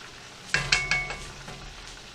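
A pot of rinsed callaloo greens is stirred, giving a few quick soft scraping and clinking strokes in a short burst over a faint background sizzle, close and fairly quiet.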